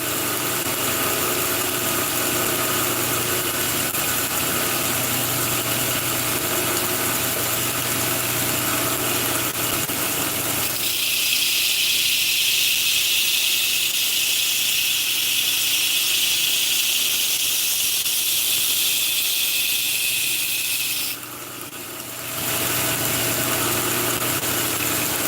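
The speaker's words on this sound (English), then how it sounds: "I'm just going to grind it down to 0 real quick on the wheel" A rasp knife is ground down on a bench grinding wheel, giving a steady, loud motor whine and hiss throughout. The tone shifts partway through as the blade presses against the wheel, then briefly changes again near the end.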